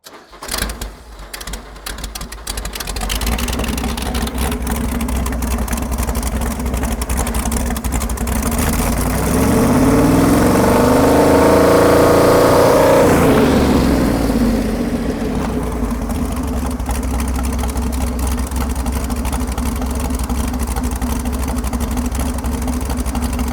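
Ford Pinto Wagon engine after a timing adjustment, cranking over and catching, then running loud and steady close by with a brief rise in revs before settling back to a rough idle.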